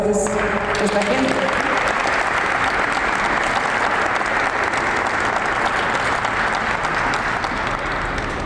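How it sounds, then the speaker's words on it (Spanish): Sustained, dense audience applause at a Mexico–Ukraine friendship group working meeting, loud and steady throughout, briefly overlapping a voice at the very start. "Pues quiero un aplauso para esta gente."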